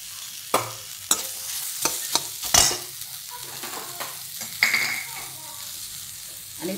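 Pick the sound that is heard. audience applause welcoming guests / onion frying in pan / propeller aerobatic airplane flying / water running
onion frying in pan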